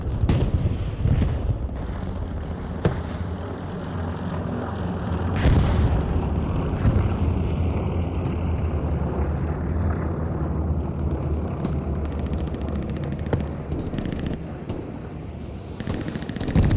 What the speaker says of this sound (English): Axis bombing run coming on in